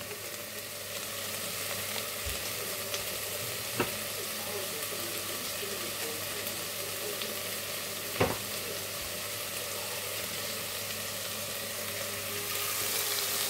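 Chicken coated in fajita mix fries in a pan, a steady, fairly quiet sizzle that runs throughout, with a couple of brief sharp clinks partway through.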